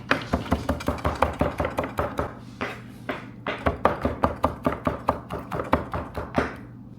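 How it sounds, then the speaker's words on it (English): A knife chops parsley on a cutting board in quick, steady knocks, about three per second, close and crisp with a brief pause midway. "cut the parsley"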